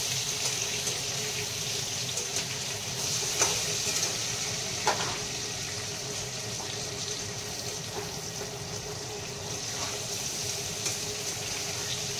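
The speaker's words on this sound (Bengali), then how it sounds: "এবারে আলুটা ভাজবো।" Potatoes, sweet potato and carrot fry for khichuri with a soft, steady sizzle, fairly quiet, broken by a few faint clicks and stirring sounds.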